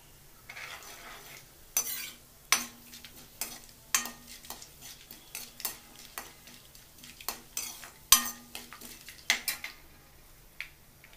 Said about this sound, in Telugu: ఇది కొంచెం ఆవాలు చిటపట అనిద్దాం.